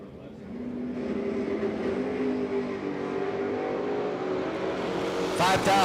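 Drag racing cars, one a Mopar, rev and launch, a loud engine roar building steadily at the strip with a sharp burst near the end, and an announcer talking over it.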